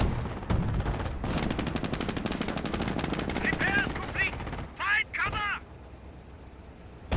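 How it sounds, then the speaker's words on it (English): A mortar barrage and machine-gun fire in the World War II strategy game Company of Heroes: dense, continuous rattling gunfire with sharp blasts, over which a voice talks, then a few whooshing effects before it quiets. "Oh, that's a mortar barrage. That's what I'm hearing."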